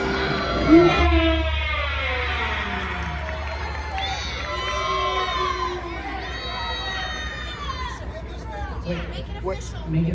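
Audience at an indoor costumed wrestling show at an anime convention in Raleigh shouts and cheers loudly, with high children's yells and excited babble rising and falling over a constant crowd din.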